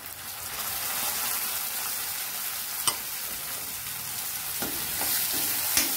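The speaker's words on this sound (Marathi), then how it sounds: "टोमॅटो पण चांगला भाजू द्यायचा" Tomatoes added to onions fry in a pan, giving a steady, close sizzle with a few faint scrapes and clicks from stirring, and no voices.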